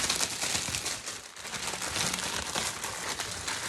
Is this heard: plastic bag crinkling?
yes